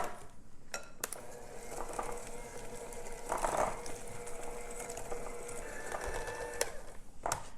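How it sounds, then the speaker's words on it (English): Cookie dough with milk and vanilla extract being stirred in a bowl, a steady low scraping and mixing texture with a few sharper clinks of utensil against the bowl, continuous and moderately faint with no talking. "just mix until it's all nice and smooth and combined"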